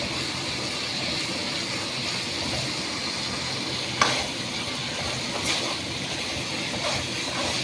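Masala with ginger frying in oil for a mourala fish curry, a steady, moderate sizzle with occasional stirring clacks and one sharp utensil knock near the middle.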